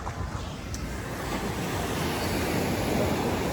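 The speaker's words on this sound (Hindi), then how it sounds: "यहाँ पे इतनी तेज लहरें हैं" Strong sea waves break along the shore at Gokarna beach in Karnataka near a restaurant and moored boats, giving a continuous loud roaring wash mixed with wind buffeting the microphone.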